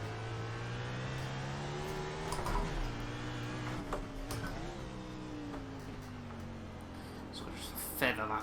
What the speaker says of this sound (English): You can just see there what happens when you don't blip the throttle on the way down. Just hear the revs spiking slightly.